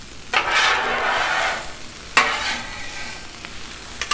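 Potatoes and vegetables sizzle on a Blackstone griddle while a metal spatula scrapes and stirs them in a few sweeping strokes, with quieter frying between the close, fairly soft scrapes.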